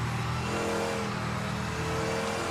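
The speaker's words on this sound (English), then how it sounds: "This is the sound of my Lola." Continuous roar of a Lola race car engine revving in the Project Motor Racing video game, loud and steady throughout without pauses.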